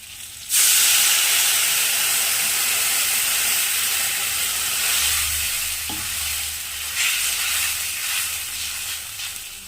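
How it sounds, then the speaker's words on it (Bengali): Water is poured into a hot pan of fried mango, setting off a sudden loud burst of hissing steam that settles into a long, steady sizzle and bubbling with occasional stirring. "এখন আমি জল দিয়ে দিব।"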